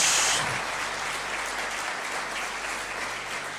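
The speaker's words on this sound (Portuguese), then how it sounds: "eu gostaria que você desse um forte aplauso ao Senhor Jesus" Loud, dense applause from a church congregation, sustained and steady across the whole clip with no voices over it.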